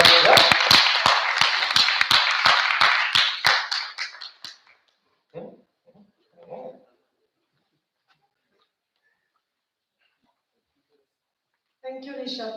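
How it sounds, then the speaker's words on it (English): Audience applause at an event welcoming a national board, a few seconds of loud sharp clapping that fades out, followed by brief bits of talk and then silence. "Welcome them with a round of applause."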